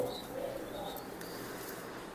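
A racing pigeon coos softly in a few short, low calls, close by and faint against a quiet background, with a light chirp or two.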